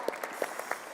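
Audience applause at a conference on safeguarding election management bodies, a steady patter of many hands clapping, moderately loud and continuous throughout the brief moment.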